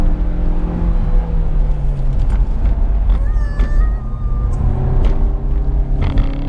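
A 2016 Mazda CX-3 Grand Touring engine revs high and steady under load, a continuous loud drone from inside the cabin with its pitch rising and falling, and a brief tire squeal partway through.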